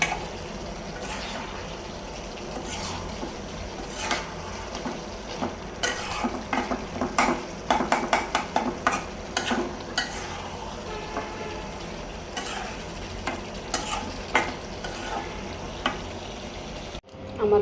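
Vegetable bhaji stir-frying in a pan, a steady sizzle under repeated clattering spatula scrapes and stirs, bursts of quick strokes in the middle, close and continuous.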